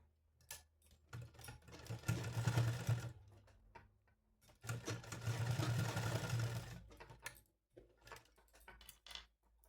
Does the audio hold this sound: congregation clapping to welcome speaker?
no